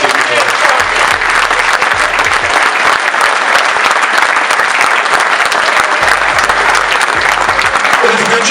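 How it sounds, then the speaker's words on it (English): A live audience at an evening-with event for boxer Ricky Hatton breaks into loud, sustained applause, a thick continuous wash of clapping lasting the full span with little letup. "Give him a round of applause, fantastic."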